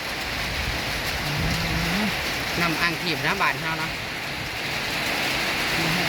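Heavy rain and wind at a market stall make a dense, steady hiss throughout, while people talk close by over the downpour.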